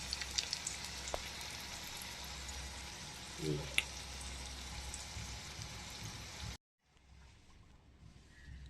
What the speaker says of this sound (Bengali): এই দেখো পটল ভাজা লাল হয়ে এসছে